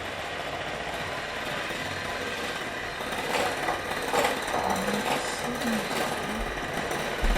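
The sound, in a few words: electric mixer mixing jello cake batter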